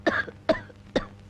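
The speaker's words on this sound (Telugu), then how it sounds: "ఈ దగ్గుతో రాత్రులు నిద్ర పట్టడం లేదు." A person coughs three times in even succession, close and distinct, with quiet pauses between each cough.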